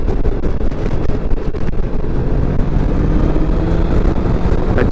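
A 2024 BMW K1600GT motorcycle ridden at open throttle, its engine roaring loud and continuous under heavy wind buffeting.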